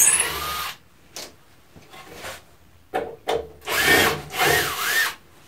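A power drill backing screws out of a wooden re-saw push stick buzzes in several short bursts separated by pauses, ending with two longer whirring runs, close and fairly loud.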